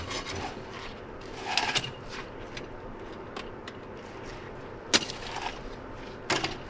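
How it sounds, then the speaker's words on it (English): A sharp folding Silky handsaw cuts through wood while a lodge wall is being rebuilt. Faint, close rasping strokes are broken by a few sharper cracks and scrapes, with no talking. "I love those silky saws."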